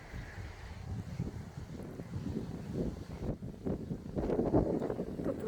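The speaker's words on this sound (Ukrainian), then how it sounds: "Ой, неприємний вітер." Gusty wind buffets the microphone in uneven rumbling bursts, growing stronger toward the end.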